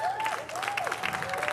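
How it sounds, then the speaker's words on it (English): An audience at a Black Excellence Night event applauds Black-owned businesses, with dense clapping from a crowd and a voice heard over it. "please give these Black businesses a round of applause"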